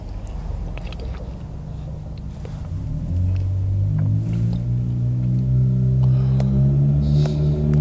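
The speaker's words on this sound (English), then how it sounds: "Sorry for the car noise." Traffic on a busy road rumbles nearby, with a vehicle engine swelling and rising in pitch as it passes close by. No one speaks.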